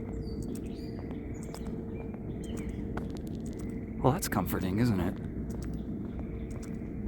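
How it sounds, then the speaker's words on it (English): Outdoor birds call on a dark night walk toward a cemetery, a burst of chirping rising briefly near the middle under a person's close talking, with faint ambient hiss throughout. "Beautiful bird sounds."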